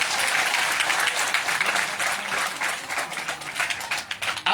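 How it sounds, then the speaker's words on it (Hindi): Loud, dense applause from a crowd gathered for a Bhagwat Katha religious discourse, many hands clapping together in a steady rippling roar that swells and dips slightly before ending abruptly. "एक बार ताली बजा दो"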